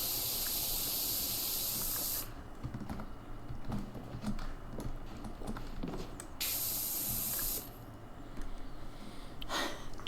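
A pressure washer in the video game PowerWash Simulator 2, set to turbo mode with a turbo nozzle, sprays in two quiet bursts of bright, steady hiss separated by softer clicking and background sound.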